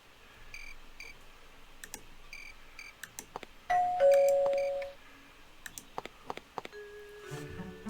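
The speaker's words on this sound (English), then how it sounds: "Anyways, so doorbell." A doorbell rings in the video game Maniac Mansion Deluxe, a clear two-tone chime standing out loudly amid scattered clicks and small game sounds, followed by a few more short tonal blips.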